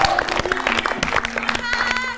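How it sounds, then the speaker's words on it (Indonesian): Audience clapping and cheering at a campus quiz show between two Indonesian universities, a brief scattered burst of applause mixed with crowd voices. "Tepuk tangan dong, Sofian dan Dede."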